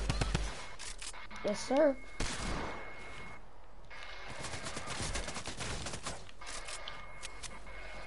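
Video game gunfire in bursts of rapid shots, some automatic, loud and close at the start and then scattered through the clip, while voices talk over it.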